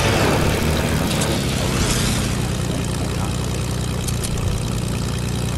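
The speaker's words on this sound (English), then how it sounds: "There's another plane." A propeller plane drones overhead in the Fortnite video game, a steady engine hum with a low buzzing tone lasting several seconds, fairly loud and continuous.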